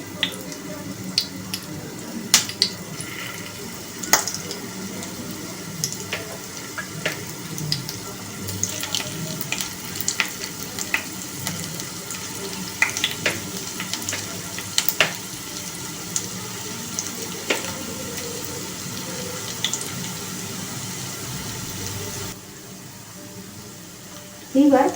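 Yogurt-coated paneer pieces fry in hot oil over medium heat, a steady close hiss dotted with sharp crackles and pops that fades near the end.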